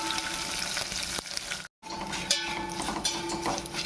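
Curry leaves and dals fry in hot oil in a pan, a steady close sizzle that briefly cuts out and then resumes, with faint scraping of a spoon.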